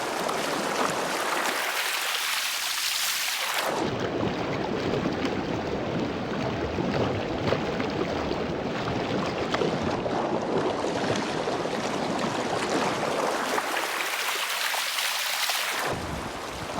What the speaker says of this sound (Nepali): अब यो म एकछिन भिडियो बनाउँछु पानीको खोलाको।